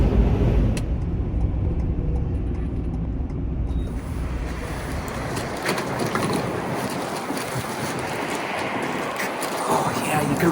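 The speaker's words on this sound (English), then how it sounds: "You can probably hear how windy it is." Strong gusts buffet a moving van, a loud rushing roar of wind and road noise that fills the cabin and swells and eases continuously.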